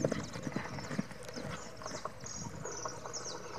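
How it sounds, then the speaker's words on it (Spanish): Rapid hoofbeats of a blue roan horse clip-clop in a steady galloping rhythm on firm ground, fairly close, with faint background noise and no talking. "Ahí vamos al galope para el otro lado."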